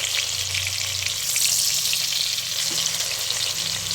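Eggs frying in a hot pan give a loud, continuous crackling sizzle, close up and unbroken, with no voices over it.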